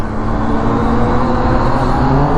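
A 2016 Yamaha FZ-09 motorcycle engine sounds loud and close, a steady, full-bodied roar held throughout with no pauses and no voices.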